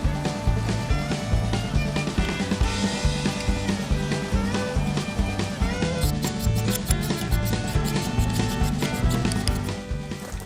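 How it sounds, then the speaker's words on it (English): Knife blade drawn repeatedly over a fine whetstone, producing rhythmic close-up scraping strokes at a steady pace, with faint musical tones running underneath. "Now we're gonna start using this really fine stone and just see how much more refined we can get this cut"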